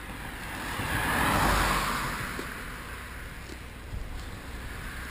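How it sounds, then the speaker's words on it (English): A car swells past on a nearby road outside an old schoolhouse, rising over faint wind and steady background hiss, then fading as quieter traffic rumbles on. "You'll hear cars coming by."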